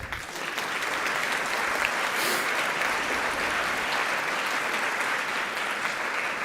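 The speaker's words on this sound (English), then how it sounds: "you could definitely give them a warm round of applause" A conference audience breaks into sustained applause for the families of hostages, a thick, even roar of many hands clapping that holds steady and loud throughout.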